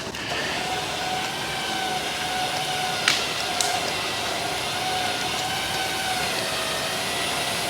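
Winch on a Toyota 4Runner pulling rope outdoors in thick fog, a steady whining mechanical drone that runs throughout, with two brief sharp clicks near the middle.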